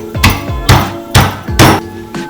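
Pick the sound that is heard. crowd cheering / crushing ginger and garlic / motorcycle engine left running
crushing ginger and garlic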